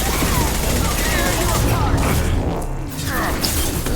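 Heavy high-impact gunfire in the video game Mass Effect 2, a dense, loud burst of shots and crashing impacts filling the whole clip with a brief dip near the end.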